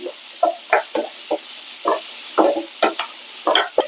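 Vegetables sautéing in butter in a pan as a side for pork rib steak, with short scraping stirs and soft sizzling in an irregular rhythm, close and clear, no voices.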